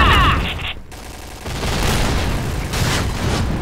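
A PKP machine gun fires in the video game Point Blank: loud, dense bursts of gunfire with booming impacts, opening with a sharp burst and then a sustained rumble of shots over about four seconds.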